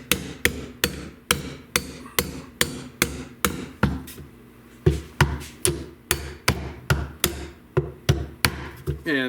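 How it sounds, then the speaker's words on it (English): A hammer pounds a tight-fitting 3D printed part into a rigid heddle loom frame on a workbench, about twenty sharp, steady blows in a regular rhythm with a brief pause midway, close and loud with no talking. "Maybe a little help with the hammer."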